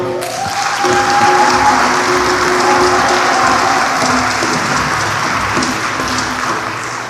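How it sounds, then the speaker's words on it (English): A church congregation bursts into sustained applause at Mass, a loud, dense wash of clapping that continues steadily and tapers slightly toward the end. "Can we clap for our own pastor?"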